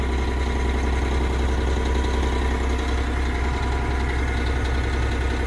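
A John Deere 13.5-litre diesel engine idles steadily at 1300 RPM, a loud, continuous low rumble with an even mechanical clatter and no change in pace.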